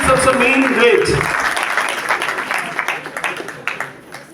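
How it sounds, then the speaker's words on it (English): A school farewell audience for the Class XII graduates claps, with loud applause fading to scattered claps over several seconds and a voice speaking over the start. "Let's not be miserly in our clapping. Clap loudly"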